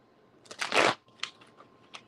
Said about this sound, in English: So that was a terrible shuffle.